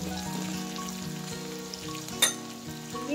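Vegetables for sambar, including drumsticks, carrots and beans, sizzling steadily in a hot pot, a constant close frying crackle with one brief clink of a utensil partway through.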